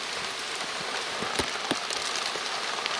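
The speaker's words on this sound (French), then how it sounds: "La pluie s'invite." Rain falls on an outdoor archaeological dig site: a constant hiss of rainfall with a few sharper, nearby drops striking the surface, and no speech.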